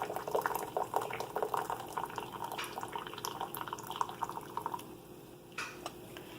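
Boiled ma toom tea being poured through a filter, with liquid trickling and dripping steadily in a close, moderately quiet stream and no talking.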